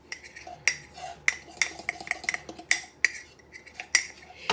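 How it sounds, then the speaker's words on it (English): A spoon stirs yellow batter in a bowl, sharp clinks and scrapes repeating in an uneven rhythm every half second or so, close and clear with no talking. "It says stir for 60 to 90 seconds. So that's what I'm gonna do."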